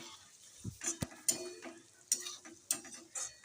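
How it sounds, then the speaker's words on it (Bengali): Potatoes fry softly with onions in a pan while a utensil scrapes and clinks against it in irregular strokes. "আলু ভাজা হচ্ছে"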